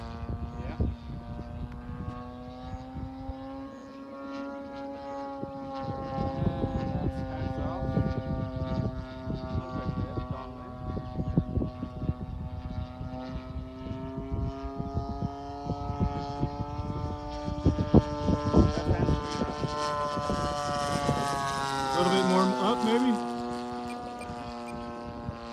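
A Phoenix Spitfire model airplane drones steadily through its maiden flight, its harmonic motor whine holding close and even for the whole stretch and rising in pitch near the end, with a low, wind-buffeted rumble underneath.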